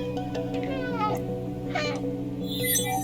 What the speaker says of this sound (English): that was just the cat meow on his own